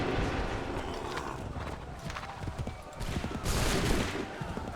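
A volley of gunfire breaks out after an order to open fire, rising into a dense crackling burst of shots over hoofbeats and battlefield clatter, with voices faintly mixed in.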